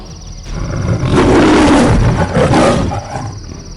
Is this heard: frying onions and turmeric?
no